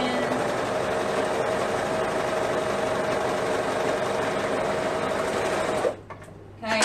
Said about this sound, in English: So I'm going to sew the front curve seam and the back curve seam together first